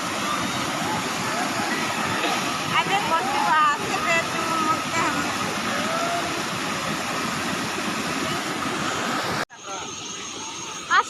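Steady broadband rush of the Jamadeipenta waterfall, a loud continuous roar of falling water that fills the whole clip, with a shift in tone near the end and voices faintly mixed in.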